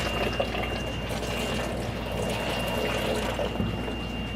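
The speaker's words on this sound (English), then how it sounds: "So the tank continues to overflow." Water spills steadily over the top of a tank in a Reynolds Tech wet bench and runs off to a drain, a continuous close rushing trickle with a faint steady tone above it.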